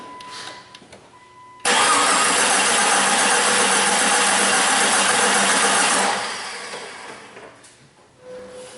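A Jeep Cherokee with a misfire cranks over with a spark tester fitted to cylinder five, the starter grinding loudly and steadily for about four seconds before cutting out, with quieter workshop sounds around it.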